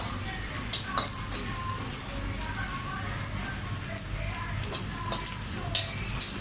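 Garlic sizzles in a hot pan as it is stirred for low-budget pancit guisado, a steady close frying hiss with small scraping clicks throughout and no talking.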